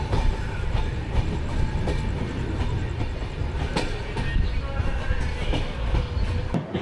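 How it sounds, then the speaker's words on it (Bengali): The Jamalpur Express overnight service from Howrah rolls along the rails toward Kahalgaon station, a close, continuous rumble with faint rhythmic wheel clatter and no talking. "পুরো একটা রাত ট্রেনে বিশ্রাম নিয়ে ভোরবেলা ট্রেন আমাদেরকে কাহেলগাঁও স্টেশনে নামালো"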